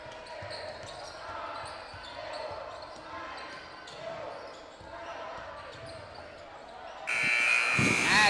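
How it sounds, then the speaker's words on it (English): A loud electronic buzzer sounds at a basketball game to end the quarter, cutting in sharply near the end over steady crowd noise and ball bounces while a commentator talks. "At the buzzer, just off the mark there for Lincoln Johnson"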